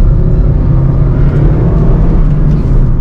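Steady, loud engine and road roar from inside a Honda City with an i-VTEC engine cruising on a highway, a continuous drone with no pauses.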